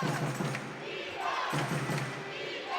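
An indoor basketball arena crowd roars steadily to rouse the home Newcastle Eagles against the Plymouth Raiders, a dense, loud wash of voices and chanting that swells and dips without stopping.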